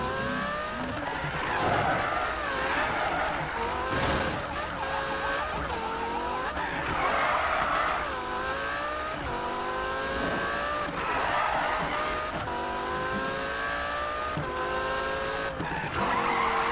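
A Lamborghini in the Need for Speed (2015) racing game skids repeatedly, with tire squeals rising and falling in long sweeps over a constant engine roar and no talk.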